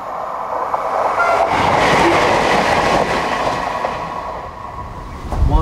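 A train passes nearby with a loud, steady rumble and rhythmic clickety-clack of wheels over rail joints, fading slightly toward the end as a brief whooshing sound cuts in.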